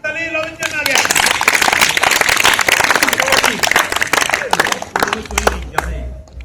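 Participants at a theatre workshop break into loud, close clapping that builds quickly and then tails off, with voices talking and calling out over the applause.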